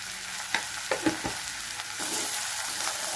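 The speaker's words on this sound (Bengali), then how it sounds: "নেড়ে দিই। আস্তে আস্তে মশলাটাকে একটু কষাতে হবে।" Tomato, green chilli, salt and spices fry in a pan for bhindi do pyaza, a steady close sizzle broken by a few scraping stirs of a spatula, with no talking.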